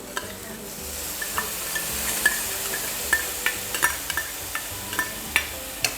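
Dal stirred into a pan of drumstick leaves, a steady low sizzle with scattered scraping clicks of a spoon against the metal pan, close and continuous with no talk.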